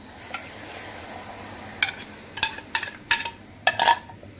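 A spoon stirs an egg, milk and sugar mixture briskly into besan halwa in a hot pan, giving a soft sizzle under a series of sharp scraping clinks that bunch together toward the end.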